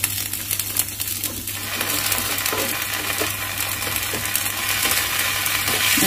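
Tomato dosa batter cooking on a hot pan gives a steady, close sizzle and frying hiss that runs the whole time, with small scraping and clinking touches and no talking.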